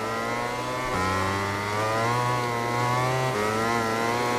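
A Yamaha MotoGP bike's engine in MotoGP 20, a loud close high-pitched wail that drops as the bike shifts up, then climbs steadily again, with no talk.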